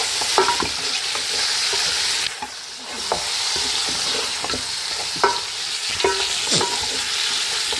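Mutton chaanp stirred in a karahi, sizzling and frying steadily with repeated scraping strokes of a spoon against the pan, close and alone with no talk.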